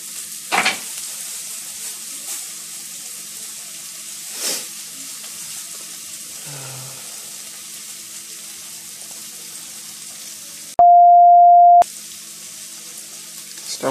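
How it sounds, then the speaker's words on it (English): Hot oil spitting and crackling in a pan while frying, a steady sizzle broken by a few sharper pops, with a sustained beep-like tone partway through. "it's literally spitting now the oil"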